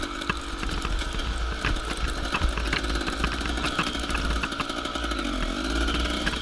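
A small-displacement two-stroke dirt bike engine rips and revs through wooded trail riding at a hare scramble, its crackling, buzzing exhaust loud and close throughout with rapid throttle changes and no talk.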